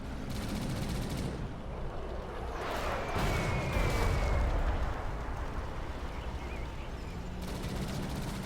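Machine-gun attack on a War Factory in the real-time strategy game Rise of the Reds, dense rattling gunfire and blasts forming a continuous loud barrage, swelling toward the middle, with no voices.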